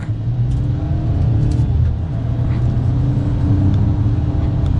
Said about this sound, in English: we'll give it a little bit of gas here, getting back up to the speed limit